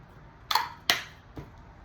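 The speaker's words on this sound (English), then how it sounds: "this is the Kylie Cosmetic setting spray matte finish" Kylie Cosmetics matte-finish setting spray misted in two quick, close spritzes, then a fainter third puff, with no talking.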